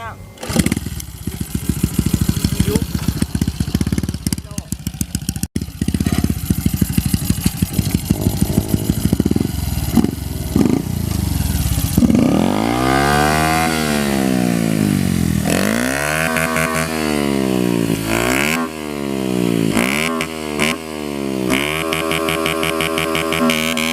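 Honda Wave 110i motorcycle with a racing cam and aftermarket exhaust, close and loud, crackling at idle and then revving hard in repeated rising and falling sweeps, with a brief voice early on.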